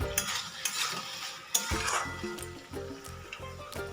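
A spoon stirs snail curry with tomatoes and potatoes in a pan: close scraping and clinking against the metal over a faint simmering sizzle, with a few sharper knocks.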